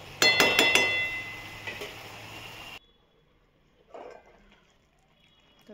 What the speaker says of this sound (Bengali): তো ঢাকনাটা খুললাম বন্ধুরা